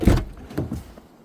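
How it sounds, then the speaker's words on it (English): A door on a 2023 Toyota Corolla opens with a low thump and then shuts with a second solid thud about half a second later, close by and alone, with a faint rattle trailing after. "Glad to open that door and shut it up."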